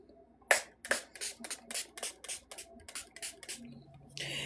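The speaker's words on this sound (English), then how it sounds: "So we are just using our Dr. C Tuna Pure Rose Spray." Dr. C Tuna Pure Rose spray pumped repeatedly from a bottle, about a dozen quiet, sharp hissing puffs in a quick, uneven rhythm, close by with no talking.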